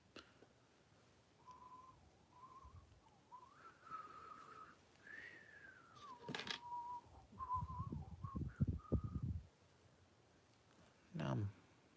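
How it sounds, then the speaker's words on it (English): Someone whistles the Ghostbusters theme in a clear, wavering tune, phrase after phrase, while building a Lego Home Alone set, with a cluster of plastic clattering and rustling near the end. "Now I'm whistling all the Ghostbusters themes."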